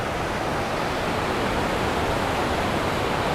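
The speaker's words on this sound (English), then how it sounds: "The water is literally just like meandering through all these rocks and fissures and stuff" Constant broad rushing of a stream of water running through rocks and fissures along a wooded trail, loud and close with no voices.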